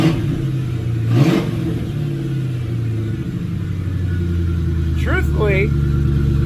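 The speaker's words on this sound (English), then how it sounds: "Now let's hear what it sounds like with no mufflers" A car engine with its mufflers removed, catalytic converters only, rumbles loudly up close, with revs rising and falling in deep surges and a brief higher-pitched squeal near the end.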